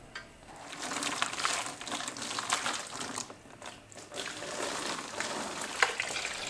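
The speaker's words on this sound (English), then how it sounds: "I washed all the flux off with steaming hot water" Hot water gushes and splashes over a brazed steel bicycle frame, a Surly being converted for gravel, rinsing off flux with a steady spraying wash and occasional clicks and knocks.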